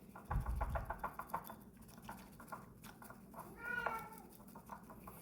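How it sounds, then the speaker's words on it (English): A cat meows in the background of a quiet room, a couple of faint, drawn-out rising and falling calls, with soft pattering and bumps around it. "Excuse my cat in the background."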